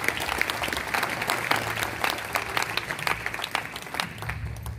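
A church congregation breaks into applause during a French-language worship service, with dense, steady clapping from many hands that holds at an even level for several seconds.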